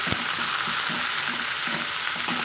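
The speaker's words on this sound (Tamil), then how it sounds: "நம்ம அதை வெட்டி வச்சுக்கிற அகத்துக்கீரை பூவையும் சேர்த்து நல்லா வதக்கலாங்க" Chopped agathi flowers sauté in a hot pan for a spicy tamarind curry, with a steady loud sizzle and soft scraping stir strokes throughout.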